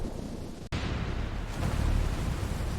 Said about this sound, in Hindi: इस भयानक मौसम ने घर की छत तोड़ दी।